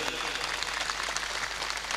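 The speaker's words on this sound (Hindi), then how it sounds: "यदि मेरी बात अच्छी लगी है तो ताली बजाना" Steady audience clapping at a live comedy show in response to a performer's call, a dense, continuous patter of many hands held at an even level throughout, with faint crowd noise mixed in.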